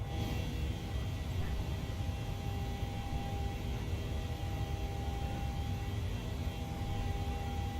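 Airliner climbing after takeoff in Microsoft Flight Simulator 2020, departing Port Moresby: a steady, broadband roar of engine and airflow noise with a faint tonal whine, continuous and even throughout.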